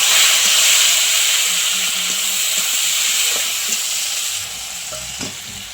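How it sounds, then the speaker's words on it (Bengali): Onion fries in a pan until reddish-brown, a loud, even sizzle with occasional scraping stirs that eases off slightly toward the end. "পেঁয়াজটাকে ভালো করে লাল লাল করে ভেজে নেব।"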